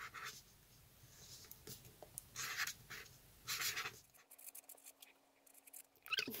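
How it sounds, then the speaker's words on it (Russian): A pen with invisible ink writing on paper: close, scratchy strokes come in short bursts with pauses, then a faint steady hum and a final scratch, quiet and near. "Сначала мы пишем."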